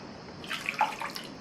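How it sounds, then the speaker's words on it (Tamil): Two cups of water are poured into a pan over powdered jaggery for a rava sweet, a short, faint trickling splash in a quiet room. "அதுக்கு 2 கப் தண்ணி சேர்த்துக்கலாம்."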